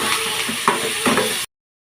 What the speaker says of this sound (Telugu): దీంట్లో కొద్దిగా ఆయిల్ వేసి వేయించుకోవాలి.